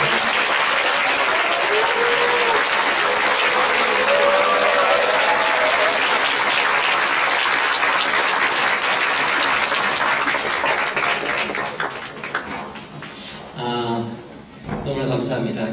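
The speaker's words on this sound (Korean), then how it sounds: "우리 일어나서 인사하실 때는 크게 박수로" Church congregation at a Sunday afternoon service applauding a visiting police Christian choir after their praise songs: loud, sustained clapping for about twelve seconds that thins out and fades, with voices and chatter coming through as it dies down.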